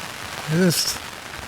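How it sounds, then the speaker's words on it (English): Rain falling steadily in the Azores, a constant hiss with a short voice rising over it midway. "it's raining"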